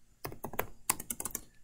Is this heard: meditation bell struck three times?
no